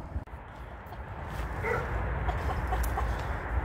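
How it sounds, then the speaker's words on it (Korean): Chickens in a coop cluck and call in a busy, continuous murmur, close and fairly loud over a rough background noise, with a few sharper squawks standing out and no talking. "네, 밤 되면 이렇게 닭들이 위에서 올라가서 잡니다."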